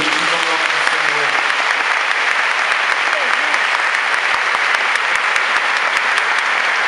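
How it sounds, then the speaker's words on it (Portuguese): A large crowd at a religious congress claps without pause, the dense steady applause filling the hall from start to finish, close and loud. "Se você concorda, aplauda o Senhor, bendito o nome do Senhor."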